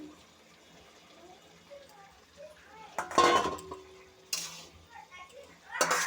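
Fried hilsa fish heads are stirred into a cooking pot, with a few sharp clanks and scrapes of a spoon against the metal between quieter stretches of soft background cooking noise.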